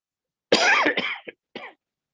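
A person coughs up close, a harsh rasping burst followed by a short second cough after a brief pause.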